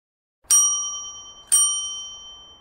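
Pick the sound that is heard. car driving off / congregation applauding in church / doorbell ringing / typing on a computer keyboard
doorbell ringing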